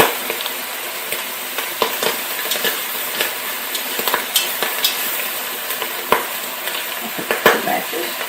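Chicken browns in a pan for coq au vin, a steady bright sizzle and crackle of frying with frequent small clicks and scrapes from stirring, close and continuous.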